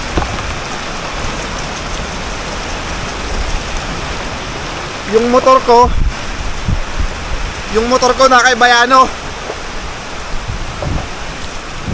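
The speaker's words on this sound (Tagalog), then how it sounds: "Ayun, pumatak yung bagyo." Steady heavy rain hiss from a typhoon in San Pablo City, Laguna, pouring continuously throughout, with people talking briefly over it in the middle.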